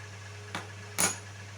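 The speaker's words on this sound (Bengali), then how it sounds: "ভালো করে আমি এখানে কষিয়ে নিচ্ছি।" Masala chicken being stirred in a pan: two brief metal spatula scrapes and knocks against the pan over a steady low hum, close and fairly faint, with no talking.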